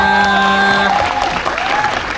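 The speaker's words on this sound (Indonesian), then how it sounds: "tepuk tangan dulu buat semuanya" A crowd at a film's meet-and-greet celebration claps in a burst of steady applause that begins under a sustained tonal note and continues briefly after it fades.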